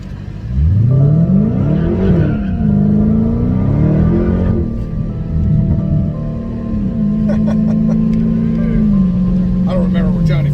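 Dodge Hellcat accelerating hard with traction control switched off, a loud close engine roar rising in pitch through gear changes, dipping and climbing again, with brief voices over it.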